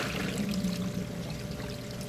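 Warm water pouring into a Speed Queen top-loading washing machine set to large fill, permanent press, a steady close splashing stream with a faint hum underneath.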